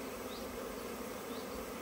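Honey bees buzz densely around an old hive on a sunny, warm afternoon, with a continuous even swarm drone and no voices.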